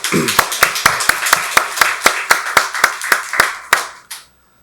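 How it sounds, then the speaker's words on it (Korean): A church congregation at a Korean Sunday worship service claps in unison to glorify God, about seventeen loud, evenly spaced claps in a steady rhythm, ending with a final clap and then silence. "박수로 하나님께 영광 돌리겠습니다"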